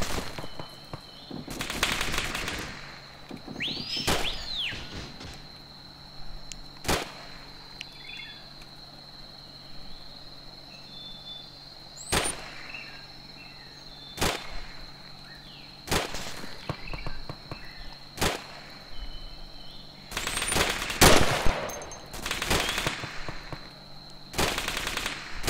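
Troops opening fire: sharp, loud gunshots and short bursts crack at irregular intervals over a steady background of insect chirping.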